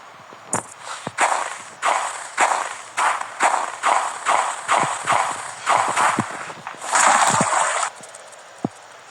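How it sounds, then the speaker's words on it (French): Footsteps of flip-flops in the horror video game Granny slap and clack at a steady walking pace, about a dozen sharp, close steps in an even rhythm with no talk. "J'ai entendu ces bruits de pas là, ces claquettes."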